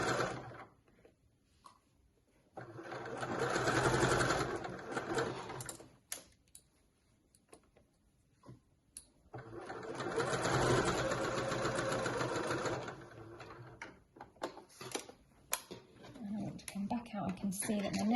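A domestic sewing machine runs in two long bursts of steady buzzing while stitching around a curved dress pocket, with someone talking in the quieter gaps between runs.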